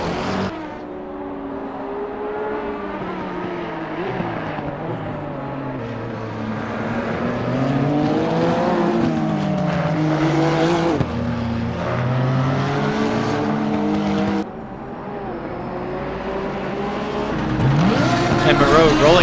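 Sim racing race car engine pulling out of the pit lane at Misano, with layered rising and falling engine tones from several cars and a brief near-stall, steady and loud under commentary speech throughout.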